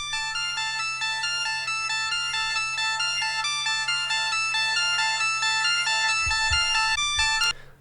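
Bright, steady synthesizer tones from a Logic loop pulsing in a repeating pattern, clean and electronic, continuing evenly for several seconds before stopping abruptly.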